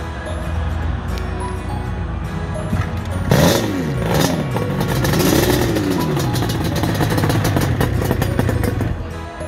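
A Honda CBX motorcycle engine revs loudly and close by, its pitch climbing and falling through several throttle blips over a constant rough idle.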